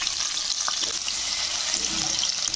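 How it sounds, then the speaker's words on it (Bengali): Chopped garlic hits hot oil and ghee in a pan and fries with a steady bright sizzle that runs the whole time, close and even, with no talk. "তেল গরম হয়ে গেছে, রসুন কুচি দিয়ে দিলাম"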